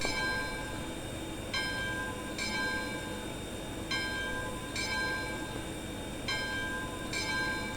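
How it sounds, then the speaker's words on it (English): A steam locomotive's operating bell rings in Trainz 2019, evenly spaced metallic clangs repeating over a steady background hum of the engine. "Does have a nice operating bell."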